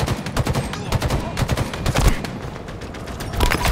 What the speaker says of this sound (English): It allows me to spam shooting the guy on the cliff